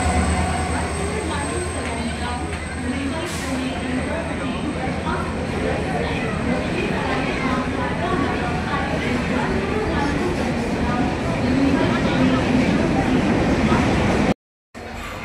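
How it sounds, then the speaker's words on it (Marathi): The Deccan Express from Mumbai to Pune rumbles steadily at a platform, a loud continuous low roar of wheels and carriages with station noise throughout, cut briefly near the end. "11007 Mumbai to Pune Deccan express platform number 5ला आलेली आहे"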